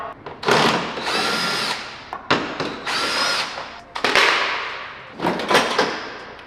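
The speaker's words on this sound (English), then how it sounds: "Taking out those 2 screws." A power drill backing out two screws on a Chevrolet Corvette C7 rear diffuser, with several close, loud whirring bursts separated by short pauses as the screws come free.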